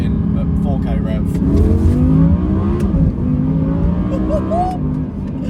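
An Audi R8 V10 accelerating hard, its engine roaring with rising and falling rev tones, loud and up close from inside the car, with a voice heard over the noise.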